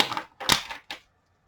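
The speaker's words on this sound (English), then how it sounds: "Let me do another quick shuffle on this one." A deck of playing cards riffle-shuffled by hand, giving three short bursts of crisp, rapid flutter close by, the last one ending abruptly into silence.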